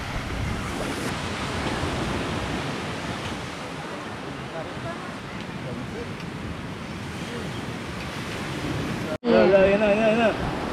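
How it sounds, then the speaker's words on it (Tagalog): Strong ocean waves roll and crash continuously at a beach near a campsite, a loud, steady roar of surf with wind buffeting the microphone, and a voice briefly speaks near the end. "And ayan, malakas na ang alon."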